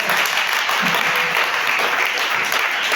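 A church congregation claps together, a dense, steady burst of applause filling the hall, loud and continuous throughout.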